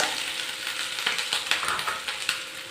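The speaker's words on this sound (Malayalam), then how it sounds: "എണ്ണ ചൂടാകുമ്പോൾ അതിലേക്ക് അര ടീസ്പൂൺ കടുക് അര ടീസ്പൂൺ ഉലുവ മുക്കാൽ കപ്പ് ഇഞ്ചി ചോപ്പ് ചെയ്തത്" Mustard seeds, fenugreek and chopped ginger hit hot oil for a beef pickle, producing a dense, close sizzle with rapid small crackles and pops throughout.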